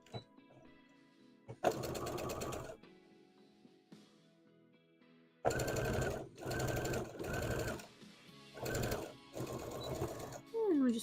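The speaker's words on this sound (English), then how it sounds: "And we're just gonna sew it at a slight curve." Sewing machine stitching cosplay fabric along a slight curve, several loud bursts of rapid needle running separated by short pauses, up close.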